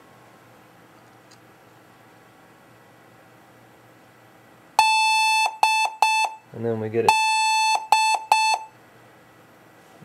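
A Compaq CQ50 laptop, faulty, sounds extremely loud error beeps at power-on: a pattern of piercing electronic tones, long and short, repeated twice after a quiet start, with someone speaking briefly.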